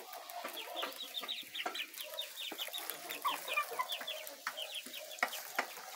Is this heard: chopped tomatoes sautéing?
no